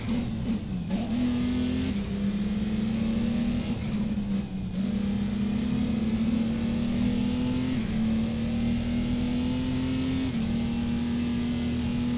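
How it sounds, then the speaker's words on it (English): A steady, loud engine drone of non-diesel racing cars in Race Driver: Grid, with a high whine that shifts slightly as vehicles pass and rev behind a wall. "You can hear all the non-diesels driving past on the other side of the wall there."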